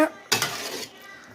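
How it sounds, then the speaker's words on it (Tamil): A quick burst of scraping and clinking as Maggi noodles and water are stirred in a metal pot, loud at first, then fading to a soft rattle. "தண்ணி ஊற்றிட்டு எங்கள் அம்மா கலக்கி விட்டாங்க."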